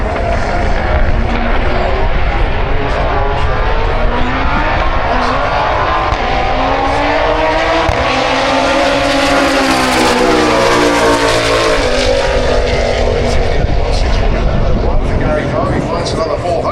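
A Zetec-powered four-cylinder van roars down the drag strip at Santa Pod, its engine note rising loud and close, then sweeping past and fading amid steady crowd and track noise.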